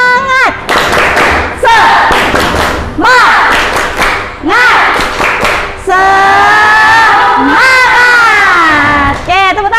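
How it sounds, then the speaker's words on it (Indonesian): A class of students in a mathematics lesson does a chanted spirit clap, loud voices calling out in unison, broken up by sharp rhythmic bursts of hand claps. "tepuk semangat"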